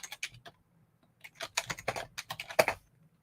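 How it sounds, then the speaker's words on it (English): Quiet computer keyboard typing in bursts of keystrokes, a few taps, a pause, then a quicker run of clicks, close and alone with no talk. "Seem to be having trouble typing."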